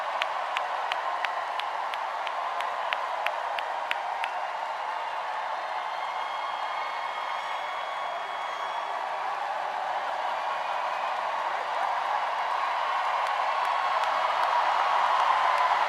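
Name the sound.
campaign rally crowd cheering and applauding in Philadelphia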